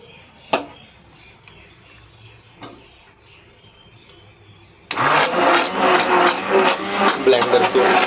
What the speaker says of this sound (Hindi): ब्लेंडर से बढ़िया ब्लेंड कर लेंगे।